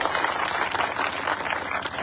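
Crowd applause at a political speech gathering in India, dense steady clapping from many hands throughout, fairly loud and continuous with a faint voice underneath.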